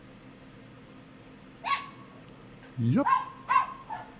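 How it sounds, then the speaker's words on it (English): A dog gives a few short barks and yips at close range, with a brief spoken word in between. "Hold for dog barks."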